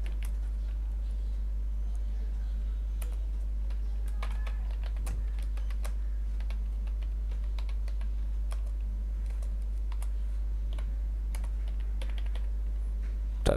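Keys clatter on a computer keyboard in irregular bursts of quick, close clicks over a constant low hum, with no talking.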